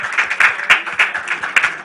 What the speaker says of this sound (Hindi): जोरदार तालियां हो जाए सबसे पहले हमारी एनएबी